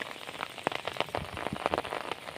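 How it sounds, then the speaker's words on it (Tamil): Steady rain patters across flooded crop fields, dense and continuous with scattered louder drops, no voices. "2 நாளாக மழை பெஞ்சிட்டே இருக்குது"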